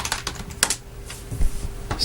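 Typing on the keyboard attached to an HP Stream 8 tablet: a close, irregular run of sharp key clicks and taps with short pauses between strokes.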